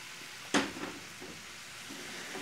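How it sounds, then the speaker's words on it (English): A garlic raspberry balsamic sauce simmers and sizzles softly in a pan, with one brief louder spit early on over a steady low bubbling hiss. "Let that reduce down."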